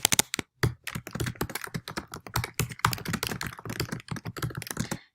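Quick, irregular clatter of fingers typing on a computer keyboard, close and clear with uneven bursts of keystrokes and short pauses, ending in silence.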